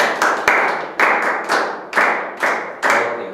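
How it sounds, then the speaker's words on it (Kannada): An audience claps for a correct quiz answer: about seven sharp, loud claps land at an even, measured beat, each ringing briefly before the next. "ಸರಿಯಾದ ಉತ್ತರ ನಿಮಗೆ ಹೇಳಿದ್ರ ಚಪ್ಪಾಳೆ ತಟ್ಟಬೇಕಂತ ಹೇಳಿ"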